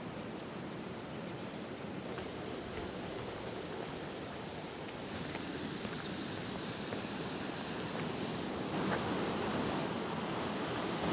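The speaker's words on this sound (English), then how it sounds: "There's a river. There's a little waterfall going down." A small waterfall and river flow outdoors beside Staigue Fort on the Ring of Kerry, making a steady, close, broadband rush of water that swells slightly toward the end, with no voices.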